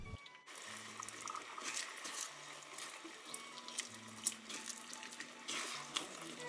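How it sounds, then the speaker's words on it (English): Vegetable broth is poured into a pot to deglaze it while a white bean and rosemary soup is cooked, giving a steady splashing liquid pour with soft sizzling, fairly quiet and with no talking. "I pour about 2 cups of the veggie broth in to deglaze the pan a little bit"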